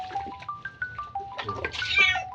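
A cat meows repeatedly in short, rising calls, close and clear, several in quick succession building to a louder, more strained cry near the end.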